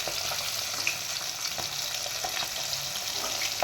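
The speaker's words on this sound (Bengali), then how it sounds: "এক এক করে আমি বাকি মাছগুলো ভেজে নিচ্ছি।" Pabda fish frying in oil give a steady, bright sizzle and crackle, with occasional soft clinks and stirring sounds over the continuous hiss.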